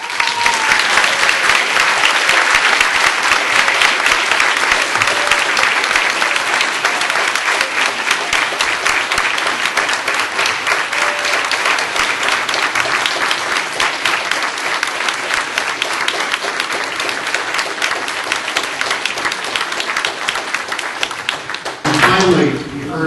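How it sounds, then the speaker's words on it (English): An audience claps steadily and densely for a clinic's board for over twenty seconds, a close, even wash of many hands with voices mixed in, cutting off abruptly near the end. "Let's have a round of applause for our board."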